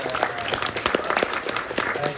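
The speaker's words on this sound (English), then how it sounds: "And applause to Zanda" Audience applause for the prop master at a film Q&A after a screening, a short burst of many hands clapping in a hall, steady and moderately loud throughout.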